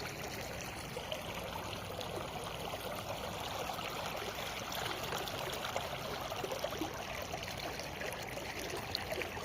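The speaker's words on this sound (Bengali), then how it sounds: "এই দেখছেন পানির স্রোত কিরকম হইতেছে" Rainwater rushing along a stream after heavy rain in Saudi Arabia, a steady close gurgling and trickling flow, continuous and alone without talk.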